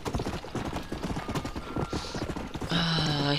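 A horse's hooves clip-clop in quick, steady beats in the video game Red Dead Redemption, close and fairly loud, with a whinny near the end.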